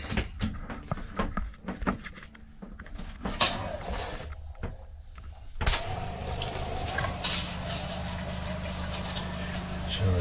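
Water gushing from an RV trailer shower faucet after clunks and knocks, settling into a steady, loud hiss that continues to the end.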